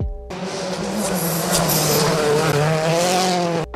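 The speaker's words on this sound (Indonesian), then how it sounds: "Mobil Citroen C4 adalah mobil rally hatchback dari Prancis" Citroen C4 rally hatchback from France driving hard, its engine note climbing and holding loud and close with rising harmonic whine, a sharp burst near the middle and possible tire squeal, no voices.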